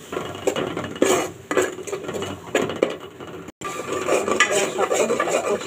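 Curry being stir-fried with chilli, cumin powder and a splash of water, a spoon scraping and clattering against the pan in repeated strokes, with a soft sizzle underneath and a brief pause midway.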